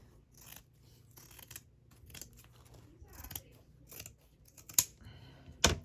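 Scissors cut through antique unbleached Italian hemp fabric in a string of close, crisp snips and crunchy slices at an uneven pace, ending in a couple of louder, sharper cuts.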